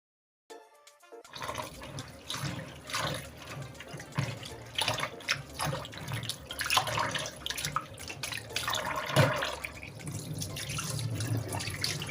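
Water runs from a sink tap while rice is rinsed by hand, starting abruptly after a brief moment of quiet, then a continuous splashing flow with sloshing and drips, close and fairly quiet.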